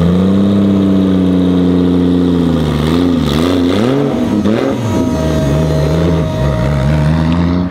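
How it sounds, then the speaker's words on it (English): A Nissan R33 GT-R runs loudly up close, a high, steady fuel pump whine sitting over the engine drone as the revs rise and fall in a few wavering surges. "Oh, that fuel pump."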